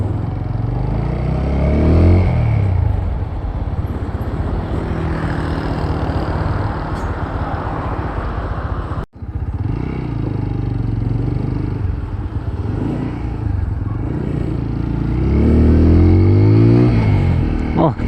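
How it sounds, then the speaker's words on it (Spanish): TVS Apache 200 Fi ABS motorcycle engine droning steadily while riding, with rising revs near the start and again toward the end, loud and close throughout, briefly cut by a dropout midway. "Oh, como suena de rico esta moto."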